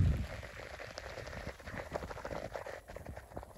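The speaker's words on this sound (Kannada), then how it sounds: "ತುಂತುರು ಮಳೆ ಬರ್ತಾ ಇದೆ" Light drizzle on a monsoon mountain trek near a peak in the Western Ghats, a soft steady patter of fine drops on foliage and gear with faint scattered ticks, continuous and fairly quiet with no voices.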